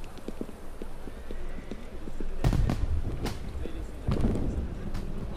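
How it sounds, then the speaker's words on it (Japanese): Booming bursts of fireworks in Assassin's Creed Unity erupt around the middle and again near the end, over rhythmic clopping footsteps and a low ambient bed. "花火。"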